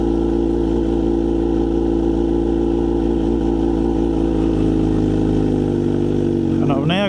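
Kawasaki Z900RS with an unbaffled Wirus Win slip-on exhaust, ridden around town at about 60 km/h: a steady, loud, close engine drone with shifting pitch through the gears, easing off near the end.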